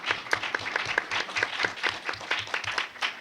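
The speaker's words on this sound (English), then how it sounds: "Let's applaud Don for his courage." An audience at an NAACP gathering applauds Don, with steady clapping that pulses in a fairly regular rhythm, close and moderately loud, with no talking over it.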